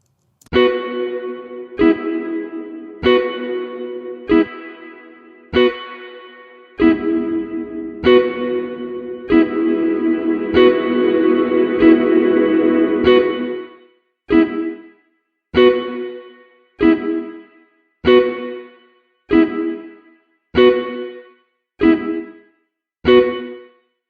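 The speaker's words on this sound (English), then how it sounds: "so that is plate reverb in a nutshell" Repeated plucked notes ring out through a plate reverb effect with a lush, metallic reverb tail, some sustained and overlapping, others clipped short, with no talking.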